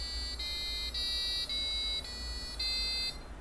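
An Arduino-driven piezo buzzer plays a short run of shrill electronic tones stepping up like do-re-mi, each note held briefly with small gaps between.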